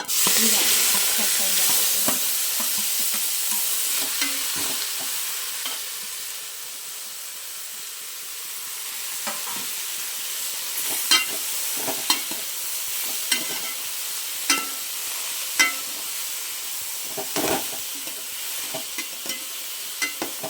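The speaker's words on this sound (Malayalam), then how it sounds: "ആ അരിയൊന്ന് നല്ലോണം ചൂടായിട്ട് നല്ലോണം പൊരിഞ്ഞ് വരുമല്ലോ" Rice grains frying in hot oil for a Kerala-style tempering give a steady, close sizzle and hiss throughout, with sharp spatters and occasional clinks of stirring in the second half and no talking.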